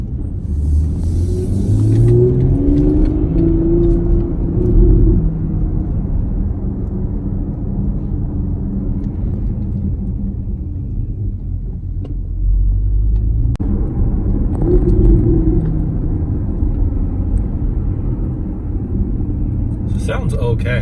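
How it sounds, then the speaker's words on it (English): A modified Porsche Panamera 4 E-Hybrid with aftermarket exhaust, valves off, rumbles steadily at close range, a deep low drone that swells and eases slightly over about twenty seconds, with no talking. "I've got the valves off, so it's the quietest mode as it can with my aftermarket exhaust"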